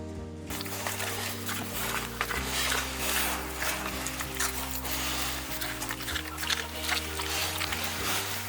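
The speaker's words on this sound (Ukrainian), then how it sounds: "Все, ще надо льоху покормить з поросятами." A sow and her piglets grunt steadily on a small farm in a village, with continuous close, loud snuffling and grunting over a low hum and some voices nearby.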